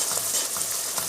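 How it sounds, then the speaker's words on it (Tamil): A brief burst of onion and tomato masala sautéing in oil for spiced kozhukattai: a bright, close sizzle with light stirring movement. "இந்த வெங்காயம் தக்காளியோட பச்சை வாசனை போகிற அளவுக்கு நல்லா வதங்க விட்டுடலாம்."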